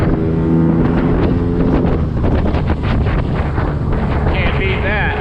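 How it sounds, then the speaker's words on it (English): A boat engine roars steadily while the throttle is worked, loud and close with heavy wind buffeting the microphone out on the water, and a voice is briefly audible near the end. "Watch the throttle response on it now."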